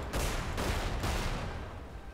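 Guns fire in the wizard video game Magicka in a few sharp, loud blasts close together, followed by a dense rattle of shots that slowly tails off.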